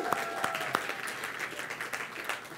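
Conference audience applause at Propelify 2021 for Team Tech United, a steady wash of clapping with a few sharp, distinct claps standing out near the start, moderately loud.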